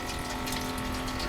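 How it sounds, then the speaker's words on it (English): A pump draws rainwater collected from roof runoff in three 55-gallon drums, giving a steady humming drone with a hissing rush of water, constant and fairly close with no talking. "it drains into 3 55-gallon drums, which are plumbed over into this pump here"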